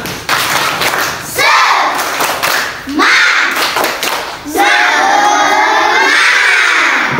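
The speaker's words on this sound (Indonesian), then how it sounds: "Coba tepuk semangat 1, 2, 3 ya." A classroom of children perform a rhythmic group clap in bursts, loud synchronized claps mixed with shouted chanting voices, coming in three waves with short pauses between them, the last burst the longest and fullest.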